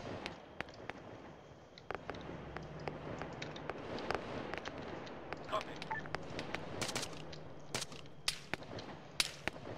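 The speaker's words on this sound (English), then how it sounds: "They're exchanging fire." Gunfire exchanged in the video game Viper Ops, scattered sharp cracks of distant and nearer shots in irregular bursts over a low background rumble, with talk running underneath.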